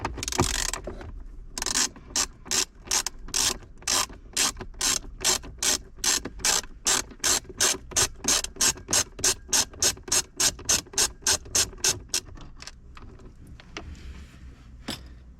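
Hand ratchet turning out glove box screws inside an Audi Q2, a close, rapid train of evenly spaced clicks that runs for about ten seconds before slowing and stopping, with no talk.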